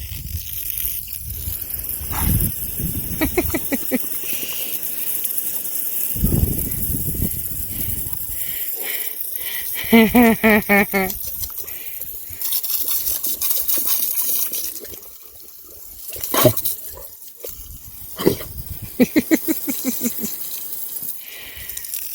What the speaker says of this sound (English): he loves to attack the water hose